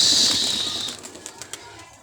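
Pigeons released from a rooftop give a burst of wing flapping and fluttering that fades after about a second, followed by a few faint scattered clicks in a quiet outdoor setting.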